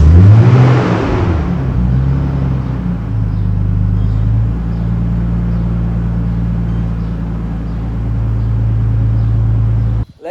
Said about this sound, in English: let me make you listen to the exhaust which was installed previously so you guys can know the difference.